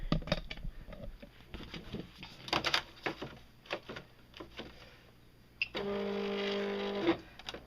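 An electronic cutting machine carries a metal sheet on its mat, with clicks and shuffling at first, then a steady motorized whir running close and fairly loud near the end.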